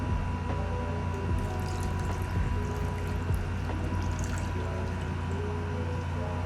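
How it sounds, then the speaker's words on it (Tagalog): Water pours steadily into a pot of pork being cooked for salted adobo, a continuous close liquid rush over a low background hum with no talk. "buhusan ko na siya ng tubig"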